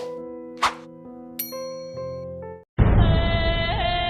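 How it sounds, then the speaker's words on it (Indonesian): A short series of bright chiming tones plays, followed by a sustained, louder electronic melody, a phone text message alert sounding up close with no voices. "ponsel Gustav berdering lagi"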